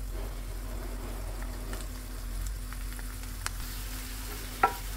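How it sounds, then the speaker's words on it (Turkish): Vegetables and minced meat sauté together in a hot pan with salt, giving a steady close sizzle and frying hiss with a faint stir or clink near the end, with no talking. "Birlikte kavuracağım."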